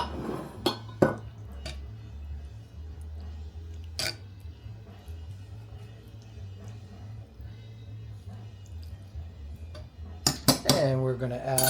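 Cottage cheese mixture spread with a utensil in a camp pan for campfire lasagna, giving soft scraping and a few sharp metal clinks against the pan, with a steady low background hum throughout.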